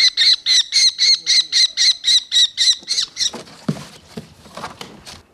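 Birds of prey being netted and boxed by ornithologists give a rapid series of loud, regular harsh squawks, about a dozen in a row, followed by softer scattered calls and scuffling, rustling handling noises.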